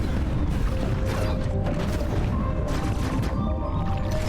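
Missiles launching and detonating in Metroid Dread, a dense run of booming blasts and crashes over continuous game noise, loud and steady with no clear gaps.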